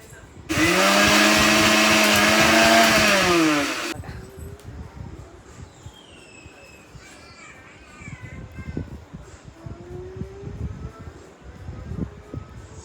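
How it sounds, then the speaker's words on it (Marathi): A mixer grinder whirs loudly for about three seconds, grinding black spice masala for chicken curry, then stops; afterward crows caw faintly in the background. "आता काळा मसाला वाटूया"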